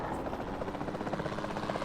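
A capture helicopter in the dinosaur park game Jurassic World Evolution 2, a steady close rotor thrum with rhythmic chopping, loud and continuous on its own.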